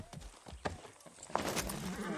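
Horse hooves clip-clop at a riding pace in the video game Far Cry 6, an uneven run of soft thuds at moderate volume over faint background ambience.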